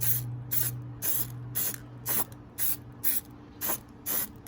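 Spray can painting the final coat onto a Proline Jeep RC car body, heard as about nine short, even hissing bursts in a steady rhythm, close and fairly loud, with a low hum underneath and no talking.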